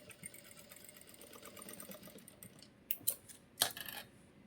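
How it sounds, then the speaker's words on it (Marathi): Sewing machine stitching a trouser pocket, a fast steady needle patter running quietly throughout, with a few louder sharp clicks and knocks near the end. "व्यवस्थित फिनिशिंगमध्ये तुम्हाला ही शिलाई करून घ्यायची आहे"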